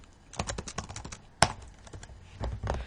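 Quick bursts of typing on a computer keyboard, close and crisp, with clustered keystrokes, a sharper single clack near the middle, then another short run of keys; no talking.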